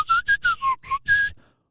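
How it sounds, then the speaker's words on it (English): Someone whistles through their teeth in six short, bright bursts that wobble slightly in pitch, close and clear, with no talk, ending in silence. "But I can whistle with my teeth"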